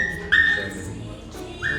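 Shiba Inu dogs of different colours in a dog cafe give short high whines and yips, close by, with faint indistinct chatter in the background.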